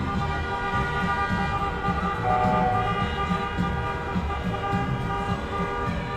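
Car horns toot over and over through dense, steady city traffic noise as crowds celebrate a football victory in a Turkish town, a loud, continuous wash of overlapping honks with no pauses.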